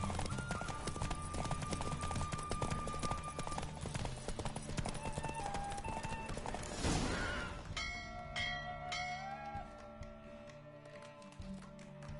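Horse hooves in a Witcher III horse race, a rapid, loud clip-clop gallop pounding continuously, then a crash-like burst before the hoofbeats fade into lighter ringing game sounds.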